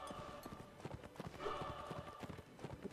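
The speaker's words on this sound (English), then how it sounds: "A horse ran in front of him." A horse gallops in the Mount and Blade video game during a Napoleonic-era line battle, with rapid, steady hoofbeats close by amid busy battlefield noise.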